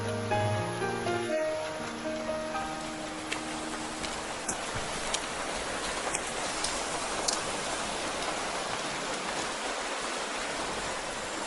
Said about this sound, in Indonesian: Rasanya hujannya mulai reda sekarang.